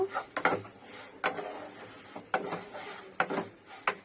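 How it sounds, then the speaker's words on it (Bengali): Sona mung dal is dry-roasted in a hot kadai, heard as close, intermittent scraping and clinking of a utensil against the pan, several distinct strokes over a faint background. "ডালটা গরম কড়াইতে আমি দিয়ে হালকা করে একটু ভেজে নেব"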